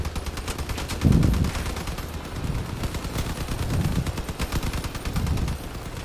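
Vehicle-mounted guns in the car combat game Crossout fire in dense, rapid rattling bursts with heavier booming hits mixed in, loud and continuous throughout.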